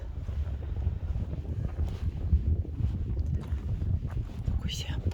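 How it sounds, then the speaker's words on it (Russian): Wind blows steadily beside a frozen lake in Norway, a continuous low rumble and buffeting against the microphone, fairly loud throughout with a brief brighter gust near the end. "ветер дует."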